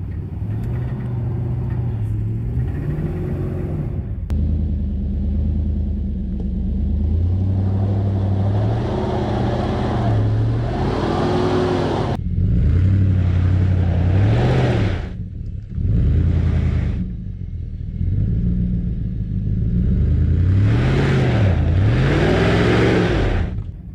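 Nissan Titan pickup engine revving repeatedly in drive with 4x4 engaged while struggling for traction, rising and falling surges over a steady rumble, close and loud, with no talk.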